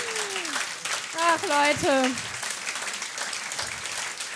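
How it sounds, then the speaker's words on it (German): Audience applause at a live stand-up comedy show, a wash of clapping running beneath someone speaking into a microphone throughout. "ein bisschen zu langer Applaus"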